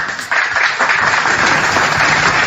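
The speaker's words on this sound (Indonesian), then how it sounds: "Oke, tepuk tangan untuk itu" An audience claps together in a sustained burst of dense, loud applause that kicks in abruptly and carries on steadily with no talk over it.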